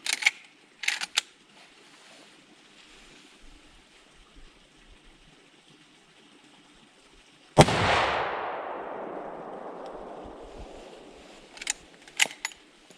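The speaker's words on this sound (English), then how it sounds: "this is going to be my first shot with this rifle" A single sharp, loud report from a pre-64 Winchester Model 94 30-30 rifle, echoing and decaying over a few seconds outdoors, with faint clicks and handling noises before and after.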